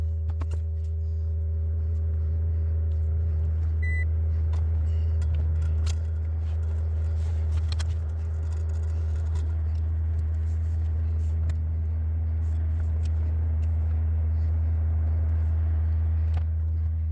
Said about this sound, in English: So let's just go for a quick ride right around the block.